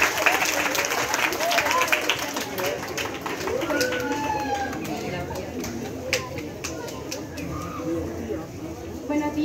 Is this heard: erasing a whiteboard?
no